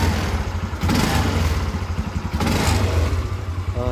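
A Yamaha Mio MX125 scooter engine runs steadily after its starter motor has been cleaned, a close, continuous mid-pitched motor hum with slight rhythmic clatter and small throttle swells.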